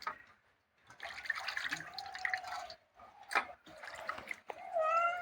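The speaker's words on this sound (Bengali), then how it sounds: "ধোয়া কমপ্লিট মাছ ধোয়া হয়ে গেছে" Rupchanda pomfret fish are rinsed in water in a kitchen, with intermittent splashing, dripping and trickling in short bursts, close and fairly quiet.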